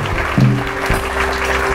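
Church congregation clapping during a worship service, a short burst of loud mixed applause with a murmur of voices underneath.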